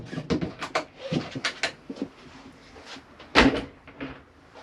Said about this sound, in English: Pushing these catches in releases the doors, and you've got storage in there